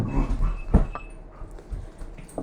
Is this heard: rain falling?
no